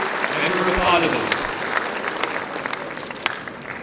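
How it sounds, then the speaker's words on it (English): Audience applause at the Dr. Paulos Mar Gregorios Award 2019 ceremony in Delhi, a sustained round of clapping from a large hall that tapers slightly, with a voice over it. "Can we have a round of applause, ladies and gentlemen, for Dr. Shashi Tharoor, Member of Parliament."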